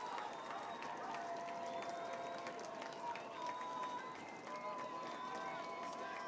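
At a high school varsity football game, BC High against Springfield Central, a stadium crowd roars in a steady, dense wash of cheering and clapping, with a commentator talking over it throughout.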